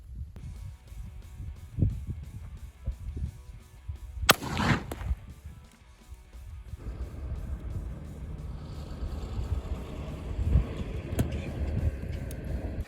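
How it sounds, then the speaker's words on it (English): Shots from a Savage Model 24 combination gun ring out as several sharp, loud reports, with one especially strong blast near the middle and lighter bangs before it, followed by outdoor background noise. "Let's go ahead and try shooting it."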